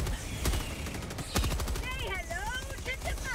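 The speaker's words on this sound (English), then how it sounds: "Alright, it's machine gun time!" Machine gun fire in the video game Helldivers 2, sharp bursts of gunfire with loud bangs over a busy battle din, mixed with chirping electronic effects and voices talking in the background.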